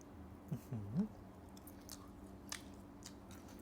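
Someone close by chews on mackerel chili dip with fresh vegetables, with a few soft, wet bites and crunches over quiet background hum.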